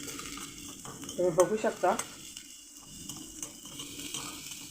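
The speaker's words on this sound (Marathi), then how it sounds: "आपण हे मिक्सरमध्ये बारीक केलेलं वाटण घालूया आणि याला 1 मिनटं परतूया" Ground garlic and green chili paste sizzles in two spoons of hot oil in a pan while being stirred, a soft steady fry with a brief burst of scraping, and a voice speaks faintly over it.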